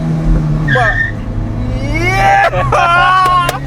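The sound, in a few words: 14-year-old Swift diesel car being driven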